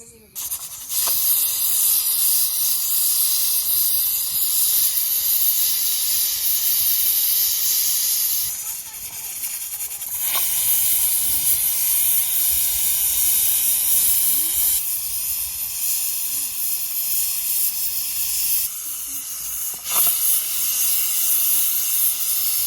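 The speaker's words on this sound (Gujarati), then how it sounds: "હવે કુકર કરી દઈએ પેક અને બેથી ત્રણ સીટી આપણે પાડવાની છે" A pressure cooker cooking potato and dried shrimp curry lets out a loud, continuous steam hiss close by. It runs almost unbroken with a few brief dips and restarts.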